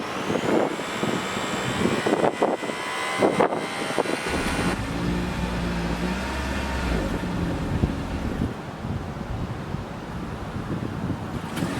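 A 2023 Toyota Prius hybrid with a 2.0 liter Atkinson-cycle inline four idles quietly outdoors, a faint steady hum mixed with wind noise on the microphone and a few louder rustles early on.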